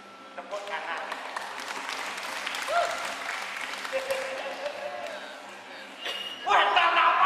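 A room of people claps together in a sustained burst, the clapping swelling louder near the end, with a few voices mixed in.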